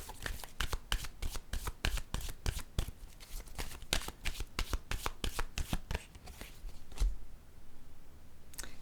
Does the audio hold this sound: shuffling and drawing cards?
yes